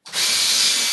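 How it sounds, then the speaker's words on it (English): A power drill bores a hole for a grab rail, starting abruptly and running at a steady, loud, high whine with no voices. "Drill that second hole."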